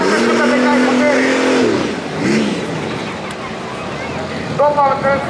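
Twin-engine Skoda Octavia drag race car of about 900 hp revs loudly with a sweeping engine pitch, then the note drops and a fresh rise comes near the end, with people talking over it.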